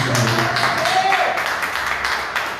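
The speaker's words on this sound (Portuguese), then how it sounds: "que as palmas louvem e engrandecem o santo nome do Senhor" Church congregation at a doctrine service claps in praise, a continuous broadband patter of many hands filling the room, with voices and a sustained tone sounding underneath.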